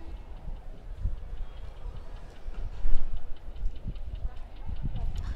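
Passenger train pulling out of an Indian station behind a WDA3A diesel locomotive, heard from on board as a steady low rumble with irregular rhythmic clacks of wheels over rail joints, swelling slightly midway.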